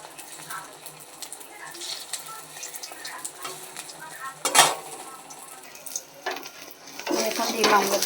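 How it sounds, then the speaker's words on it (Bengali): Egg omelette with onion frying in hot oil in a pan, a soft continuous sizzle with scattered clinks of a utensil and a sharper clatter near the middle and end. "দেখো তোমরা আমি কি করে একটু ডিমের অমলেটটা করছি।"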